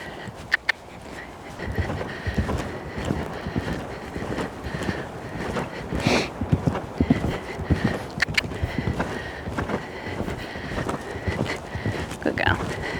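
A mare's hooves clip-clopping close by on firm ground in an uneven walking rhythm, mixed with wind buffeting the microphone and people talking.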